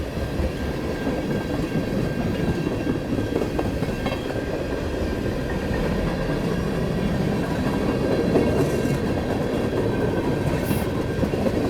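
A model train with tank cars rolls along steadily, its wheels giving a continuous rattling clatter that stays loud and even throughout, with no voices.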